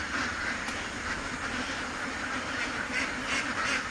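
Ducks kept for their eggs quack in a steady, overlapping chorus, moderately close, over a constant hissing background with no talk.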